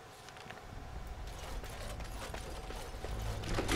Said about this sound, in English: the cogs that are whirring around